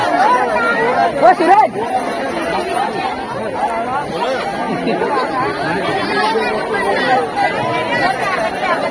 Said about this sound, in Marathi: गर्दी बघा, गर्दी बघा.